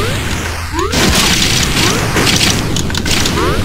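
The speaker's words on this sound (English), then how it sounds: "Oh, so you can rocket jump, eh?" A rocket-jump explosion in Gang Garrison 2, a 2D pixel demake of Team Fortress 2. It hits as a sudden loud boom about a second in, followed by dense, continuous crackling game noise.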